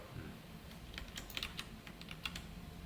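Typing C code on a computer keyboard, a quick run of light key clicks with a few sharper presses, close and fairly quiet with no talking.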